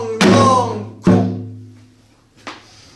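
Korean samulnori drum strikes ring out in a close sequence, two strong booming hits followed by a fainter third, each decaying with a resonant tail.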